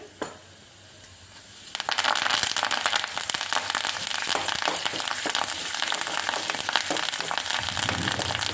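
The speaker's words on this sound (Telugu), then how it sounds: "ఇందులో మళ్ళీ కొంచెం పోపు వేసుకొని" Tempering spices crackle and sizzle in hot oil in a pan for roselle flower chutney, starting quiet and then rising after about two seconds into a loud, dense, continuous sputter that holds steady to the end.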